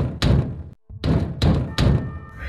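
Heavy, loud knocks strike a door in several separate bursts with a brief pause between them, close and forceful, with no voices.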